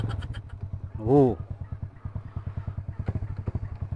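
A Rusi ZX125 motorcycle's engine idles steadily after a camshaft change, a close, even, rapid thumping pulse with a brief rev swell near the start; someone briefly speaks over it.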